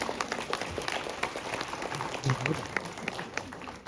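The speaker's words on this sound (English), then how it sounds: "Applause." An audience at a conference talk breaks into applause, a continuous rattle of many hands clapping at a moderate distance, with faint voices underneath.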